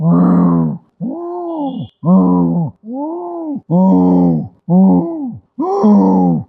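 A voice imitates a lion roaring in a deep forest, giving seven loud, drawn-out guttural roars in steady succession, each separated by a brief pause.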